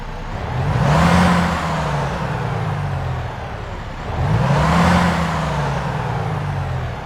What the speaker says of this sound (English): let's get this Volvo V&L started up and get on the road